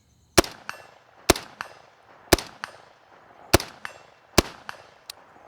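Rifle shots ring out at a 100-yard target, five sharp, loud cracks spaced about a second apart, each followed by a fainter echo or distant impact report, with quiet between shots.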